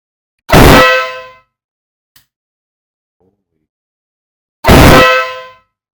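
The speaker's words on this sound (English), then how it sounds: "See how this horn goes." A Custom Dynamics ProBeast air horn on a Road Glide motorcycle gives two loud, brassy blasts, each under a second long and about four seconds apart, with silence between them.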